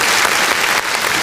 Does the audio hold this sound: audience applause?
yes